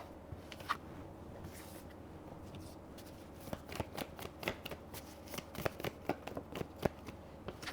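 Tarot cards are shuffled by hand up close, with soft continuous riffling and a run of sharper flicks and taps growing more frequent toward the end, with no talking.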